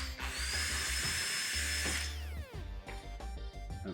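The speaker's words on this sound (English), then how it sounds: "we're going to drill 2 holes in the center. So using a 6mm drill bit" Drilling two holes with a 6mm bit during a BMW F30 body kit install: a loud, steady high-pitched power drill whine for about two seconds, then a brief wind-down, followed by clattering handling and tool knocks.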